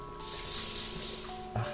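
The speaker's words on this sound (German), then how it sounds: "Wenn mich Lava nervt, einfach mal Wasser hingesetzt. Es zischt ein paar Mal und die ganze Lava ist weg." Lava hissing as water is poured onto it in Minecraft, a broad steady spray-like hiss that starts abruptly and holds for over a second before trailing off, with a short bump near the end and no speech.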